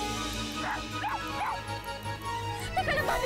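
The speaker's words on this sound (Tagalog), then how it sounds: "Abulin ko na yung aso!" A dog gives a few short yips and whimpering barks, spaced about half a second apart, then a pair of quicker yelps near the end, fairly faint under a steady background hum.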